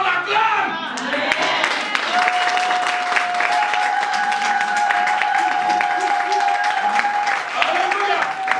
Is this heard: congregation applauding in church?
yes